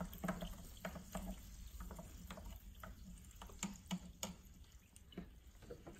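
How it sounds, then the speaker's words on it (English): Sparkling mineral water is stirred in a glass before a TDS test, faint fizzing crackle with light irregular clinks and taps of the stirrer, quiet and close with no talking. "let's stir it first so we'll get a better result on the TDS"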